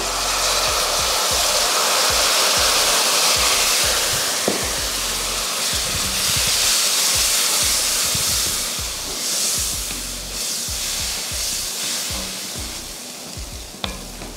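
Tamarind extract hits hot masala in a pan, a loud steady sizzle and hiss with repeated stirring scrapes and clinks across the whole stretch, no talking.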